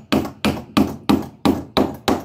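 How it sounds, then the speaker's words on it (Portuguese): Hammer strikes drive nails through wooden edge boards on a homemade four-drum family canoe, seven sharp, evenly spaced blows landing about every third of a second, loud and close with no talk. "E prega as madeiras"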